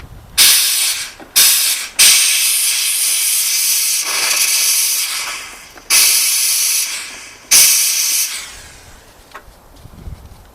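A steam cleaner blasts out the oil holes of a Bernina sewing machine in loud bursts of harsh hissing, about five spurts of varying length separated by short pauses, close up with no talking.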